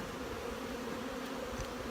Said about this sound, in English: these are a box of bees